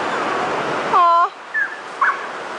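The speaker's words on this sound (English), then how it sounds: "Dog wants to come with us." A dog at the beach lets out a high, drawn-out whimper, followed by two shorter whiny yelps, close by and loud against a steady roar of surf and wind.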